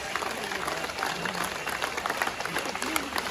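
Protesters at an anti-government demonstration clap together in a dense, sustained patter of many hands, heard at moderate distance with crowd noise around it.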